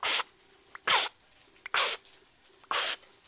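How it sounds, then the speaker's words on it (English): Savannah monitor lizard drawing in air and inflating itself, heard as four separate loud breathy hisses spaced about a second apart with quiet gaps between them, close to the microphone. "They're just sucking in air, and they really poof themselves out."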